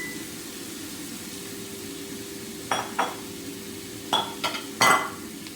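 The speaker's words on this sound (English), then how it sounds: "stir in your chopped crab meat and heat that for about 2 minutes" Chopped crab meat being stirred in a pan with a spoon, a few scattered scraping and clinking strokes over a quiet, steady background hiss.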